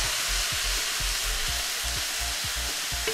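Loud, steady sizzling and crackling of tomatoes blistering in a hot pan, with soft rhythmic thumps underneath as the pan is rolled.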